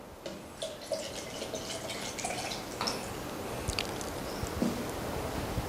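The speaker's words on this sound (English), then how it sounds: "on my right hand here is the water that I will pour into the first canister" Water poured from a bowl into a canister, part of a diesel fuel filter demonstration: soft, intermittent trickling and dripping at close range, with small splashes standing out, and no one talking.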